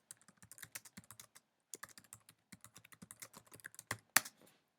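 Someone types an SEO title on a computer keyboard, giving rapid, close clicking keystrokes in quick bursts with a short pause partway through and a sharper final tap, and no talking.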